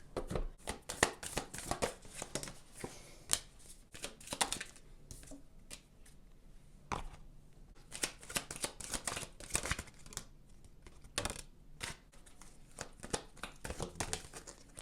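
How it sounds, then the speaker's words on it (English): Oracle cards are shuffled rapidly and repeatedly, with crisp riffling bursts and soft slaps close by, in uneven clusters with brief pauses. "I am going to shuffle all of the oracle cards at once"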